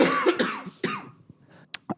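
Several coughs from a person, beginning with a cluster of harsh, loud bursts and then fading to a few short, sharper coughs spaced apart, heard up close indoors without any talk.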